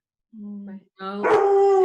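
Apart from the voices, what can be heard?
dog barking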